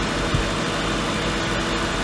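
An Infiniti M engine idles with a faint chatter, a steady close, even hum with low vibration and no clear changes in pitch, running alone without talk.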